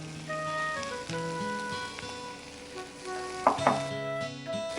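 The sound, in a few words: ridge gourd sautéing in a pan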